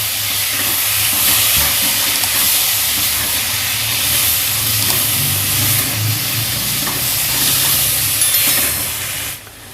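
Onion, garlic and two medium tomatoes fry in a pan, giving a steady, loud hiss and sizzle that runs unbroken throughout, with a low rumble beneath it and a brief drop at the very end.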